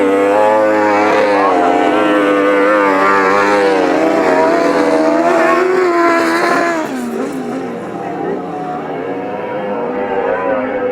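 Grasstrack racing motorcycles roar round the track at the 2018 Battle of Britain grasstrack meeting, several engines blaring loud and close together, their pitches rising and falling as they power through the bends, easing slightly before surging again.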